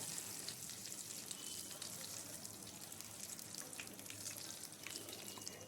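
Water lily stems sizzling in hot oil tempered with black cumin and dried red chillies, a steady, fairly quiet crackling hiss that continues throughout with no talking.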